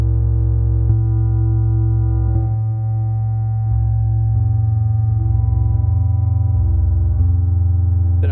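An ambient pad built in Ableton Live's Wavetable synth with reverb holds steady, sustained chord tones, loud and continuous, changing notes every second or two with no voices.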